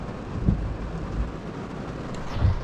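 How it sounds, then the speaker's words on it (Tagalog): Heavy rain hisses steadily outdoors with low booming rumbles of thunder and gusty wind buffeting the microphone, no voices heard. "Inuulan na kami dito."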